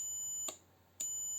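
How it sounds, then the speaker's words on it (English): PLC temperature monitoring system alarm buzzer, a steady high-pitched electronic tone that breaks off briefly and then resumes, clear and constant with no voices. "Now it started to give the alarm"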